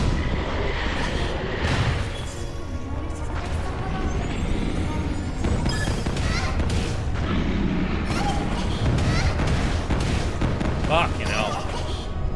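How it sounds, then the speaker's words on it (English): Fire spell blasts from the video game Little Witch Nobeta burst out repeatedly like shotgun fire, loud booming pops recurring over a dense rumbling backdrop, with a person talking over them. "Oh, it's shotgun."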